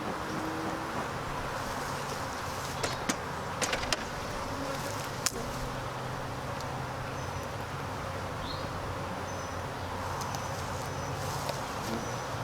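Honey bees buzz around a hive during cold-weather spring splits, a continuous dense hum with a few sharp knocks and clicks scattered through it, outdoors with no talk.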